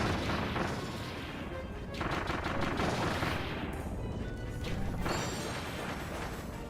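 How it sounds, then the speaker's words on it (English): A vending-machine gun fires nonstop in the video game Kirby and the Forgotten Land, a loud, continuous barrage of rapid shots and crashing impacts that surges in waves over dense game noise. "Machine gun, vending machine gun."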